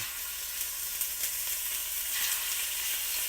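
Fish cheeks fry in a hot pan with a little oil, making a dense, even sizzling hiss that runs throughout with faint crackles and no voices.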